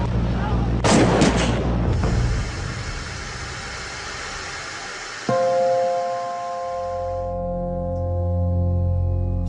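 A burst of several sharp gunshots in quick succession, loud and close, followed by a low rumbling hum and a steady tone.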